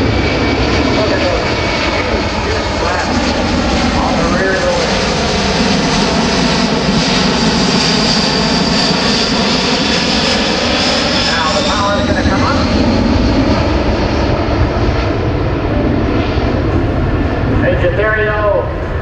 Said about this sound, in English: listen at show center for the power to come up for the go-around maneuver